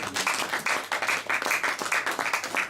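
A church congregation applauds with steady, rhythmic clapping, the claps falling into a regular beat that keeps going throughout.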